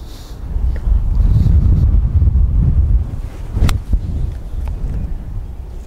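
Strong crosswind on a golf course roars and buffets the microphone in loud, continuous low gusts, with a brief sharp knock partway through and no speech.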